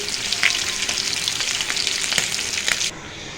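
Steady, close sizzling of rupchanda fish frying in hot oil in a karahi, with a few sharper pops and crackles, cutting off abruptly near the end.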